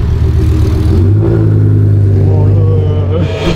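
A powerful V10 car engine revs up loudly and holds a high, sustained roar close by, the pitch climbing then easing slightly at the end.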